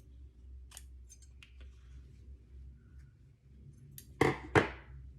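Scissors cutting random shapes from fabric, a few soft scattered snips followed by two sharper, louder cuts near the end, close and quiet against a faint hum.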